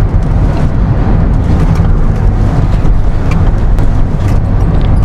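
A Kia Syros turbo petrol SUV swerves suddenly at about 80 km/h, a steady loud roar of engine, road and wind noise with no change in level throughout.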